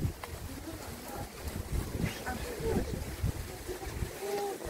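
Wind blows steadily outdoors, with gusty rumbling buffeting throughout and faint background sounds mixed in.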